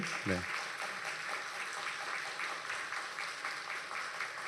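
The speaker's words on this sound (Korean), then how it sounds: "박수로 환영하겠습니다" Church congregation applauds during a Sunday service to welcome the families of retiring elders, deacons and deaconesses. Steady, dense clapping fills the hall throughout, with a brief voice near the start.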